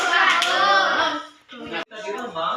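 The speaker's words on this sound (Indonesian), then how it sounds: "Tepuk bagus." Children in a classroom clap together in a short patterned rhythm, close and fairly loud, with brief gaps between bursts and young voices mixed in.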